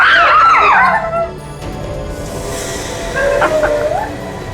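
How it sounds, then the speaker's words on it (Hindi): Shrill, wavering screams of people ring out at the start after gunfire, then die down, with a second rising wail later over a low, noisy background rumble. "इन लोगों की चीखें सुनी आपने?"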